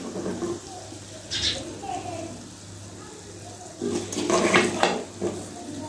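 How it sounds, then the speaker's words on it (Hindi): Masala bhindi, spiced okra, is scooped from a cooking pan onto a dish, with soft clinks and scrapes of a utensil against metal over steady background hiss and murmuring household noise. "तो अभी हम इसको डिश आउट करते हैं"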